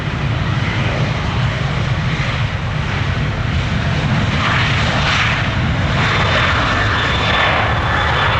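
A fixed-wing airplane lands on runway 35 right at Orlando International Airport on a busy Thanksgiving travel day, its engine roar steady, loud and continuous throughout with no talk.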